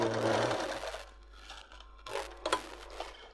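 A sewing machine stitches a seam on palazzo pants, a close, steady whir for about a second, then quieter fabric handling and a second short burst of stitching.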